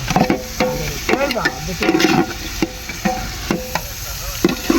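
Chillies frying in oil while being stirred and mixed, a loud close sizzle and crackle with repeated scraping and knocking of a spoon against the pan.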